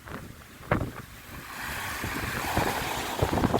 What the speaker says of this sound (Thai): ขึ้นลมแรงมาก